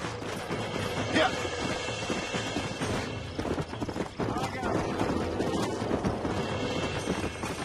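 Horse hooves pounding in the Red Dead Redemption video game, a fast galloping clatter with rattling tack and game effects under a character's shouting.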